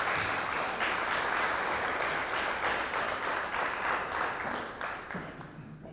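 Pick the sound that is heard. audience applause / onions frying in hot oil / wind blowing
audience applause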